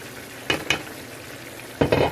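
Ground beef for tacos sizzling in a pan, with a low steady fry and three short scraping stir strokes, two close together early and one longer one near the end.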